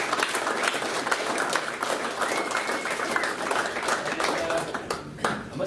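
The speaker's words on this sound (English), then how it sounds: "So everyone give Chris Wignall a round of applause." Applause at a South Australian snooker club's state final, a dense roomful of clapping holding steady at moderate loudness, with chatter and a few voices threaded through.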